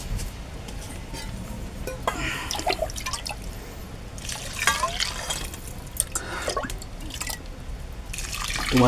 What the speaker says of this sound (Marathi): आता याच्यामध्ये मी पाणी टाकतो.